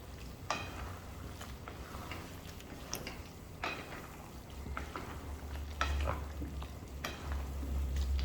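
Creamy chicken and mushroom macaroni is stirred in a pan, with a soft steady sizzle and irregular spoon scrapes and taps against the pan, close and moderately quiet.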